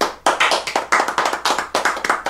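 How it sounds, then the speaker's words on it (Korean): A few people at a birthday meal clap their hands close by, in loud, quick, uneven bursts lasting about two seconds. "저를 위해서 고생해주신 창민형과 동일형 이렇게 박수"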